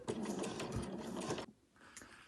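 An overlocker runs fast and loud while stitching fabric for an overlocker cover, a dense mechanical whir that stops abruptly partway through, leaving a quieter tail of faint handling noise.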